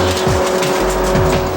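Race car in a 1999 BF Goodrich Challenge Cup round, likely a Mazda, shifting into fourth gear and accelerating, a loud close engine roar with brief pitch sweeps at the gear changes.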